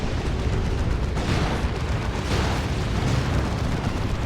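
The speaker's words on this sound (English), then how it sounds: "Comes a rocket run." Rocket run strike in a Dawn of War 2 battle, heard as a dense, continuous rumbling wall of explosions and blasts that stays loud throughout with no talk.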